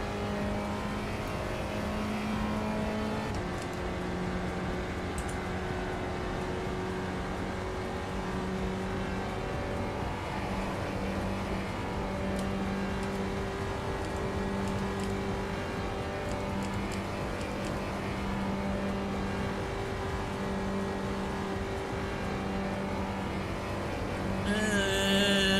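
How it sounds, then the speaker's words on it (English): A Spec Racer Ford engine in the iRacing sim racing game holds a buzzy, reedy drone with shifting pitch as it accelerates through the gears, sustained and prominent for the whole stretch. "This car sounds like out of tune bagpipes."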